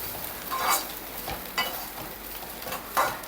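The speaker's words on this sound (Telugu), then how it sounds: "పుట్నాల పొడి చల్లుకు అంటే వేసుకున్న తర్వాత ఇలా కలిపేసుకోవాలండి బాగా" A beans stir-fry is tossed with roasted gram powder in a pan. A spoon gives three soft scraping strokes over a faint sizzle, close by, with no speech.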